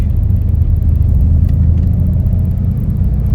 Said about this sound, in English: if you like the sound of this car